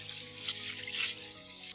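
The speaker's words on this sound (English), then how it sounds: "So I'm adding water to these beans" Water poured over beans in a bowl to soak them for Ghanaian koose, a steady close trickle and splash running without pause.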